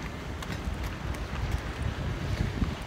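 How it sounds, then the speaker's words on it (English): Strong wind buffets the microphone outdoors during UAE National Day celebrations, a steady loud rumbling roar with gusty swells throughout and no talk. "super windy"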